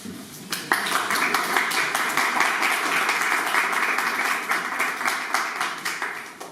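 An audience at an academic conversatorio on a great nineteenth-century Argentine figure, Ameghino, breaks into sustained, dense applause that swells quickly and holds steady for several seconds at moderate loudness.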